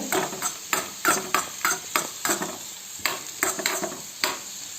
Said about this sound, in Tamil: இப்போ நான் வந்து இந்த காஞ்ச மிளகாய் நல்லா வதக்கிற எண்ணெயில் போட்டு